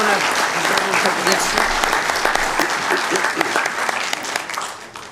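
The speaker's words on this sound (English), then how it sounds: "Big round of applause." Audience at a Sacramento city council meeting breaks into loud, dense applause that carries on steadily and then tapers slightly, with a brief spoken question heard over the clapping.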